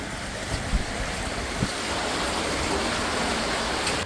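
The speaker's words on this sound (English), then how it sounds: "So loud today, think it's raining outside" Rain heard from inside an underground passageway in San Francisco, a steady, loud broadband hiss and wash with a few faint thumps, continuous throughout.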